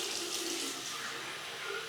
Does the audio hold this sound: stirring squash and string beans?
no